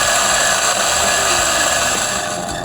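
A DF64 coffee grinder with titanium burrs grinds coffee beans at a coarse setting, producing a loud, continuous motorized whir with a gritty texture that slightly eases toward the end.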